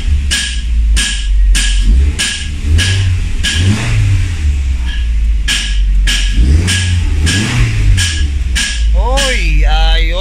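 A car engine being checked after a no-acceleration fault revs up repeatedly as the accelerator is pressed, several short sharp bursts rising and falling over a steady idle, loud and close, with a voice speaking briefly.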